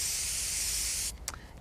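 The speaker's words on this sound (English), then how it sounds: "So now that we're outside with our spray paint, we're going to put one even coat" A spray paint can hissing steadily outdoors as it coats a model tree, one continuous loud spray for about a second before it cuts off, followed by a few faint clicks.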